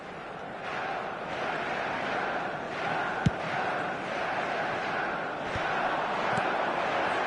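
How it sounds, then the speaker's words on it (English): Stadium crowd cheering in an eFootball soccer video game, a broad sustained roar with swelling chants and a few sharp thumps, steady and fairly distant. "certainly gave this crowd something to really cheer about"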